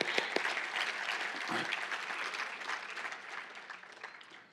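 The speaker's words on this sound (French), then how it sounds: "bonne main d'applaudissement pour Dieu ce matin" A church congregation applauds together during a morning service, a steady burst of clapping sustained throughout that tapers slightly at the end, with a faint voice briefly underneath.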